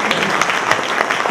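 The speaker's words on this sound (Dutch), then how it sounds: "Applaus voor deze twee individuen." Audience applause at a municipal list leaders' debate in Bladel, a short burst of dense, steady clapping from a crowd in a hall, fairly loud and with no voices over it.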